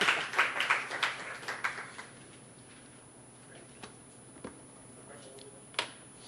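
A short burst of audience clapping, a handful of quick claps fading out within two seconds, followed by near quiet with a few isolated clicks.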